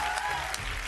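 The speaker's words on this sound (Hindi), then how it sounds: "तालियां हो जाए इनके लिए।" A studio audience claps for the top 10 child singers on a Hindi TV singing show, a brief burst of steady applause heard up close.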